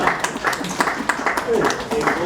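A church congregation applauds during a ministry service, a dense run of clapping bursts mixed with voices and crowd noise.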